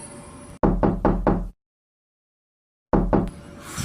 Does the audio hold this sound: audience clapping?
no